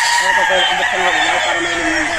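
Several roosters on a gamefowl farm crow loudly and close, their long calls overlapping into a dense chorus with clucking mixed in, continuous through the whole stretch.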